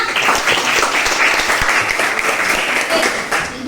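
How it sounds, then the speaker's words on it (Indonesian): Classroom applause from students in a school lesson, a steady burst of clapping lasting several seconds with a few voices mixed in. "terima kasih, tepuk tangannya."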